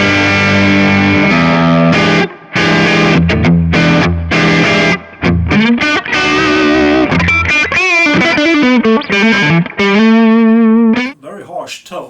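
An electric guitar on its neck pickup plays through a Kemper drive, loud and distorted, with chords and single notes broken by short pauses and a run of sustained, bending lead notes near the end.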